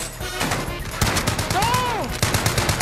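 Gunfire in a live nuke-event video game session, a busy mix of rapid shots and bursts throughout, with a player shouting over it.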